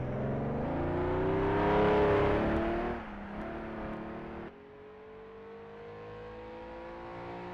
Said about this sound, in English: Mark Ziegler becomes the first of the 3-litre cars to cross the line.